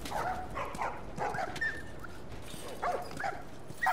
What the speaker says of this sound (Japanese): あ、犬もいる。